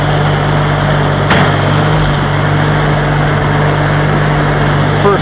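An older tractor engine putters along in first gear, a steady low drone with an even rhythm close by and no voices.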